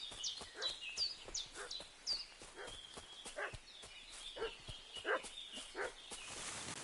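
In the Kingdom Come: Deliverance II video game, a dog barks repeatedly in irregular bursts at middle distance, with bird calls and clip-clopping hooves around it.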